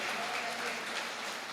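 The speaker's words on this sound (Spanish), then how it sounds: "De un aplauso a Cristo Jesús" A church congregation claps in praise during a sermon, a brief, dense and steady burst of applause heard from a distance.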